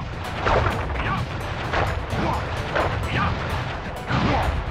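Firework-technique explosions from a Kung Fu Panda video game burst repeatedly over a dense, loud roar of game noise, each blast a booming crackle close in the mix.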